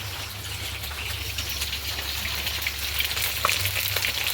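Bhola fish frying in hot oil for a fish curry, a steady dense sizzle and crackle close by with a low hum beneath, no voices.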